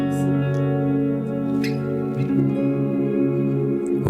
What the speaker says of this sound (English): And I can play a bit with reverb on my guitar.